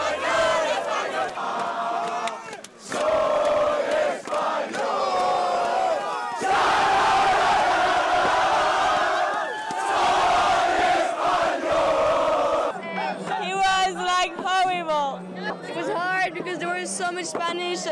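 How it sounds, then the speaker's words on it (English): Spain football fans sing and chant loudly in a crowd at a late-night street party after a win over France, rhythmic massed voices with shouts, and nearby people talking over parts of it. "Spanish cheering"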